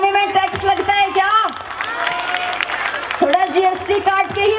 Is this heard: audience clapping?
yes